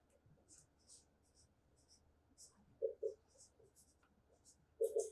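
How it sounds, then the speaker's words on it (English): A pencil scratching out numbers on paper during a third-grade addition lesson, with short bursts of strokes and small taps while a teacher's voice talks quietly in between. "So here we write 5."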